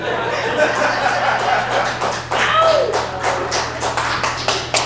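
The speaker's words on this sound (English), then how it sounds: "I'm glad this table of strangers is clapping for me" Small table of listeners clapping at a stand-up comedy gig in a craft brewery, a scattered, fairly close patter of hands with a few chuckles mixed in over steady room noise.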